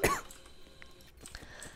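A single short cough or throat clear from a girl, loud and close at the start, followed by faint background sounds of a Roblox paintball game.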